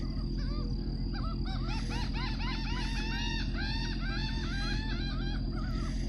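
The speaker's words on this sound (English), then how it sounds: "Seagulls fighting over something." Seagulls squabble over something by a river or creek, a rapid string of sharp, overlapping calls over a steady low rumble, fairly close and loud with no talking.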